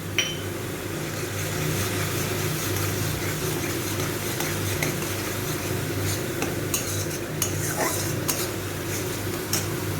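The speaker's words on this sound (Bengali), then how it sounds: "মশলাটা কুঁদরির সাথে খুব ভালো করে মিশিয়ে নেব" Fried spice mix is stirred into ivy gourd in a pan, a steady low sizzle with occasional light scrapes and clinks from the utensil, close and continuous without any talking.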